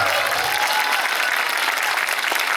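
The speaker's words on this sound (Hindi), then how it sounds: "एक जोरदार ताली मेरे यीशु के लिए।" A church congregation bursts into loud, sustained applause during a worship service, a thick continuous clatter of many hands close by with no talking.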